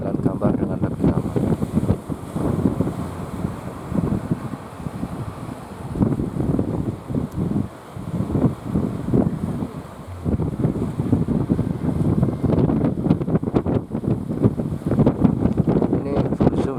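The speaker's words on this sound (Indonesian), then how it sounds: "Meskipun ada angin, biasanya saya masih bisa mengendalikan kamera yang tertiup angin tersebut." Strong wind buffets a camera microphone at Plawangan Puger beach as fishing boats set out to sea, with loud, continuous gusty rumbling that rises and dips over the sound of surf.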